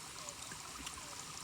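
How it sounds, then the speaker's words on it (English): A stream beside a hiking trail on the Eagle Rock Loop flows steadily, a soft continuous trickle and babble heard alone without voices. "right now I'm just kind of listening to this water. It's super soothing and beautiful sound"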